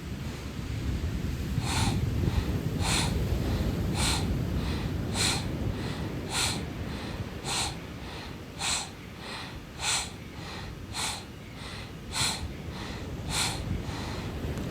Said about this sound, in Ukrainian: Максимально швидко на повну амплітуду вдоху та видиху.